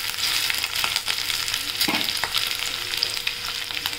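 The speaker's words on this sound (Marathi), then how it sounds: "ते पण ब्राऊन होईपर्यंत परतून घेऊया।" Desiccated coconut sautéed in a pan until brown gives a soft, continuous sizzle, with occasional stirring scrapes, close and alone.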